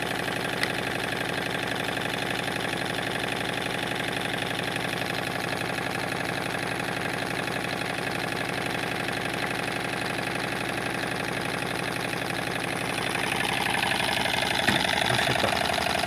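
A small Stirling engine running steadily at a constant speed, giving a continuous, even mechanical whir with a fine rapid ticking, close and loud throughout with no speech.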